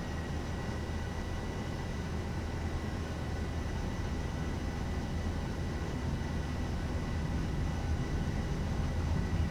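Airliner engines at takeoff power on a flight out of Dublin, heard from the cockpit as a loud, steady broadband roar that holds without a break for the whole stretch.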